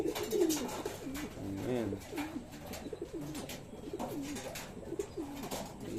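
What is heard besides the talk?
pigeons cooing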